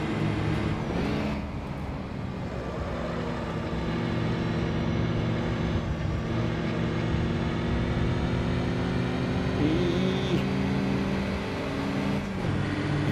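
Ford Transit vans race at the Brands Hatch circuit, their engines droning and revving steadily nearby with shifting pitch, and no voices.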